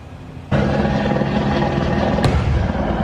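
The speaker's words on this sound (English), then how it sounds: "There are them helicopters." Helicopters circle over a residential neighborhood during a police search for suspects who fled on foot, a steady loud broadband rotor roar that swells in abruptly and holds, with a brief sharp crack partway through.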